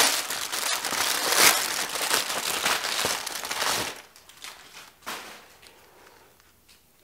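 Packing paper crumpled and crinkled close by while a package is unpacked, with dense loud rustling for about four seconds, then quieter scattered crackles and a few brief rustles.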